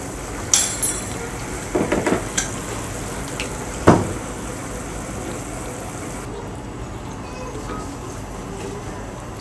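A spoon stirs carrots and peas in a frying pan, making a few scattered scrapes and clinks over a low, steady sizzle, with one sharper knock partway through.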